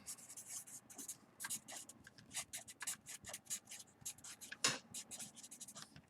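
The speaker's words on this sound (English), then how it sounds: "I'll write that down" Handwriting while solving a physics reading quiz, quiet close scratchy pen strokes in short irregular bursts with a few sharper taps, no talking.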